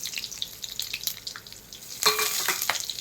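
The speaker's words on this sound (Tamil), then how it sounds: "எண்ணெய் நல்லா காஞ்சிடுச்சு. காஞ்சது நம்ம என்ன பண்ணுறோம், சோம்பு போட்டுடுறோம்." Fennel seeds with cinnamon, cloves and star anise hitting hot oil for a mutton gravy, a steady sizzle that bursts louder and crackly as the spices go in, close and alone.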